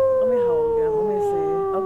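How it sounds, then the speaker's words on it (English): A wolf in the video game WolfQuest howls in a long, steady, loud tone that slides slowly downward and fills the whole stretch alone, with no talk over it. "Let me howl again."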